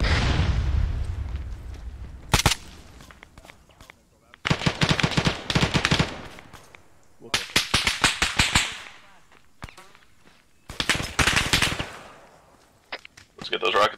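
Rockets and automatic gunfire in ArmA 3 combat against an enemy BTR: loud bursts of rapid shots in several clusters, with sharp blasts between them and shouted voices at the start.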